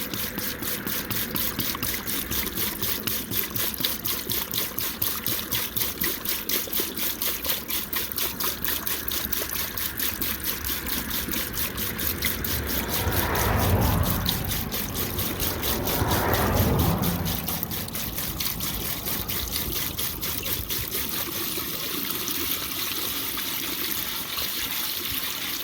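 Fuel pouring into a tractor tank, a steady close trickle and gurgle of liquid that swells into two louder bursts midway, then settles back to a constant flow.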